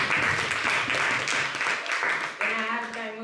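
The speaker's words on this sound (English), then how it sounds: "Please give a round of applause to all the table topic speakers." An audience at a youth leadership meeting applauds the table topic speakers, a short burst of dense clapping mixed with voices.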